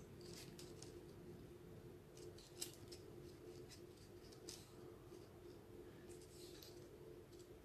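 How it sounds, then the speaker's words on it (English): Quiet, scattered snips of scissors trimming a leaf cut from watercolor paper for a Christmas card, a few crisp cuts spaced unevenly over a faint steady hum. "And I might even trim that leaf there."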